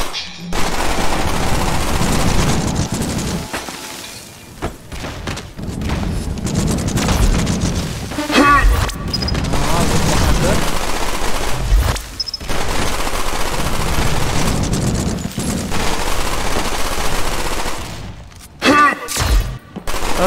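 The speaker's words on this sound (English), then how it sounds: "Stop shooting!" Rapid automatic gunfire in the video game Black Future '88 rattles in dense loud bursts with booming impacts, broken by brief pauses, with a voice occasionally audible underneath.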